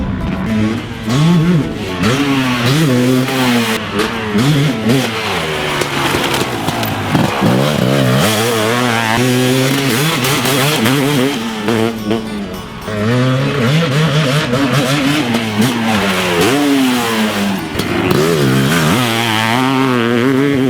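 A Kawasaki KX500 two-stroke dirt bike engine revs hard and repeatedly, its raspy note rising and falling in quick bursts, loud and close, with no talking.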